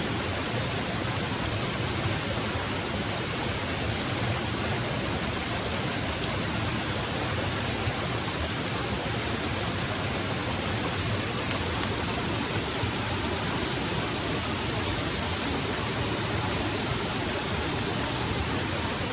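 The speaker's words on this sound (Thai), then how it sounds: "ตอนนี้ฝนตกมากนะทุกคน" Dense, steady roar of heavy rain, loud and unbroken throughout, with no voices.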